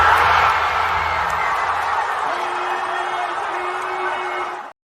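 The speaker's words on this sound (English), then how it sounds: "you can hear just the pop from the crowd" A Celtics playoff basketball game crowd roars in a large arena, a sustained loud swell of cheering and whooping that slowly fades before cutting off.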